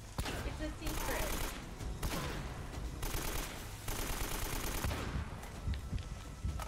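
Uncharted: Drake's Fortune gameplay with rapid, sustained gunfire crackling in repeated bursts amid dense battle noise, a voice talking faintly under the shooting.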